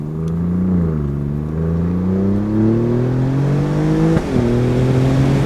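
An Alfa Romeo Giulia Quadrifoglio accelerates hard in race mode, its engine note climbing steadily through a gear with a brief shift break near the end, loud and continuous from inside the car.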